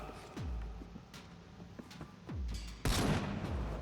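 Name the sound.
shotgun fire in the video game Vampyr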